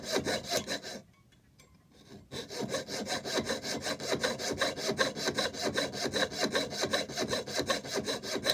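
Fine hand saw cutting a small square opening for an antique longcase clock hood door lock, a rapid even run of rasping strokes, close and clear, broken by one brief pause before the sawing resumes.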